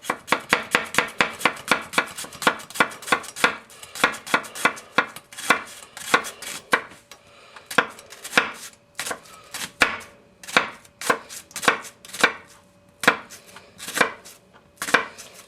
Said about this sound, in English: one of the most difficult things to do, especially if you have a thicker knife, is to Brunoise a onion